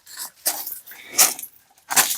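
A dog reacting to other animals outdoors at sunset, giving three or four loud, close, sharp bursts in quick succession with short silent gaps between them.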